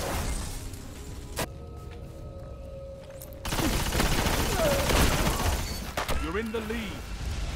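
The Necrochasm auto rifle fires in a Destiny PvP match: sharp bursts and rapid volleys crackle among in-game effects, loud and close, with a voice talking over part of it.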